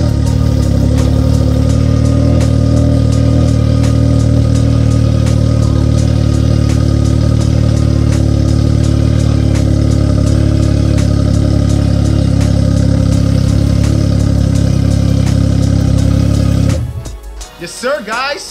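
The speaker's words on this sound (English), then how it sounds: "I know y'all want to hear that Brandon King exhaust." Can-Am Ryker motorcycle fitted with a Brandon King exhaust idles steadily up close, a loud, even low rumble held for most of the stretch before it cuts off abruptly near the end.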